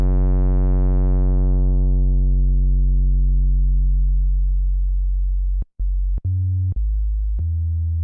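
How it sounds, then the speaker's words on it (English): A deep, sustained drum and bass synth bass tone rings out and slowly fades, then returns with choppy, gritty distorted notes stepping between pitches. "If you push it hard, it dips into distortion."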